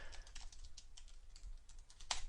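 Rapid keystrokes on a computer keyboard while router commands are typed for IPv4 access list troubleshooting: steady, close clicking with a sharper, louder burst of keys near the end.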